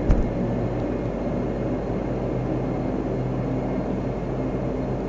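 A Majestic Q400 turboprop aircraft engine in the Prepar3D flight simulator video game drones loudly and steadily, with a constant low hum and a rushing broadband roar that holds throughout.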